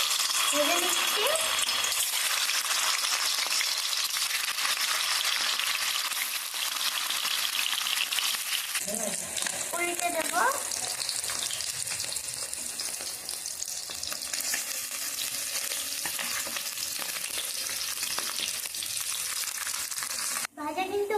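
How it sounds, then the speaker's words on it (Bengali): Paneer pieces sizzle steadily in hot white oil in a wok, a loud, continuous frying hiss with brief stirring clatter partway through. "এখন আমি পনিরগুলোকে ভেজে নেব কড়াইয়ে সাদা তেল দিচ্ছি"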